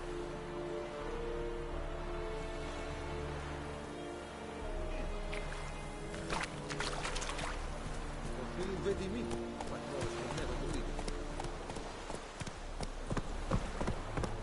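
Roach, a horse in The Witcher, trots with steady clip-clop hoofbeats, close and continuous against a rustling outdoor background, while someone speaks calmly over it.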